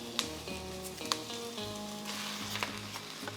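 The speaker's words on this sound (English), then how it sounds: "we're going to throw in the 2 pounds of beef" Two pounds of beef hits a hot pan of onions and peppers and sizzles steadily, a dense close frying hiss with a few sharp crackles, no voices.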